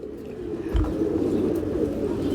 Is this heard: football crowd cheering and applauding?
no